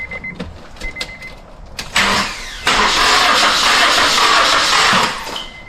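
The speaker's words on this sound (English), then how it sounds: "We're gonna crank it over, and we just want the compression strokes" A car engine cranks over steadily with a whirring starter rhythm, close and loud, without catching because the fuel pump fuse is pulled; a few clicks come before it. First-generation Honda CR-V.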